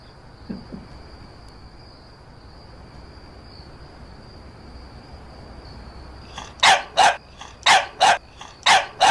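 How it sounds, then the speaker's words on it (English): A dog barks repeatedly near the end, about six loud, evenly spaced barks following a long stretch of steady insect-like hum and faint background noise. "Get out of here, you stupid dog!"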